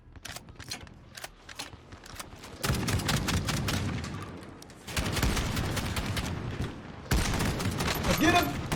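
Gunfire rattles through a Call of Duty Warzone match, with scattered shots building into sustained bursts that come in loud waves, while a voice talks over the action.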